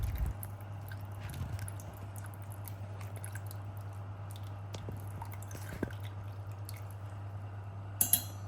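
Soaked tamarind squeezed by hand in warm water for ginger curry, soft wet squishes and faint drips scattered over a steady low hum, quiet and close.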